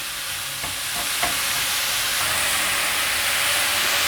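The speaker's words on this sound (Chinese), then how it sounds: "把金针菇翻炒一下，这里用铲子压碎" Enoki mushrooms stir-fried in a wok and pressed with a spatula, a continuous loud hiss and sizzle with a few scraping strokes early on, close and without talk.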